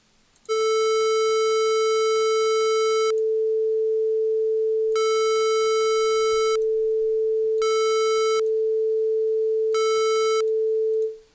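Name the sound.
square wave tone alternating with sine wave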